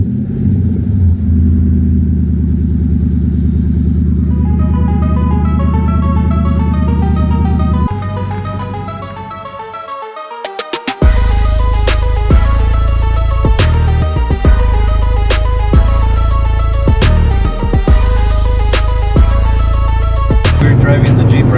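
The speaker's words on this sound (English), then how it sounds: "Driving the Jeep right now" A Jeep SRT8 with a 6.1 HEMI V8 being driven, a loud steady engine drone that drops off briefly, then returns with a brighter, rattly roar and clicking transients, close and continuous.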